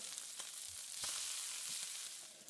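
Tilapia fillets sizzle and splatter steadily in a hot pan, a close, continuous bright crackle with small pops and no voices.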